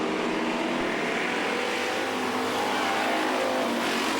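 True Value Modified Racing Series race cars roar at Star Speedway in a steady, loud, dense engine drone, packed cars running side by side in the turns, with no talk over it.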